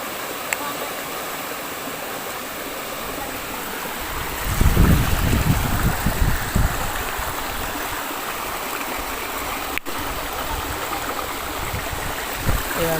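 Steady rushing of a mountain spring stream at a riverside in Tinipak, Daraitan, Tanay, Rizal, continuous and broadband, with a louder burst of splashing midway and faint voices at times.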